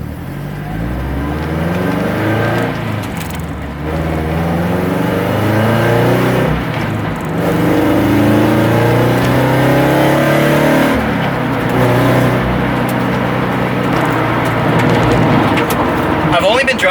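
A Subaru BRZ / Toyota FRS running an Open Flash Tablet tune drives and accelerates, its engine droning loud and close and rising in pitch through the revs, while someone talks over it.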